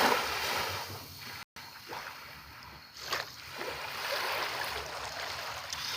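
Calm water laps along the Long Island Sound shoreline on the Connecticut side, a soft continuous wash with light splashes, heard close and steady throughout.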